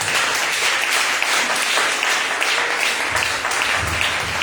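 A church congregation applauding at a Sunday service, with dense, steady clapping that stays loud and even throughout, with no voices standing out over it.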